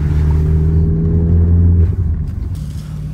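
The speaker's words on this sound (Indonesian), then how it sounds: "kok bisa dia punya RPM tuh naik dan turun cepet, jadi kayak ngeng ngeng" Track-ready car engine with a lightweight flywheel revs quickly, its steady loud drone holding and then dropping away as the revs fall.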